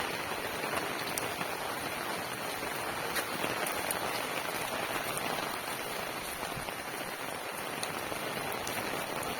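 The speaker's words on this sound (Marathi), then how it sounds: "खूप मुसळधार पाऊस सुरू आहे" Heavy monsoon rain pours down steadily in Jalna, a dense continuous hiss of drops striking surfaces close by, with no letup.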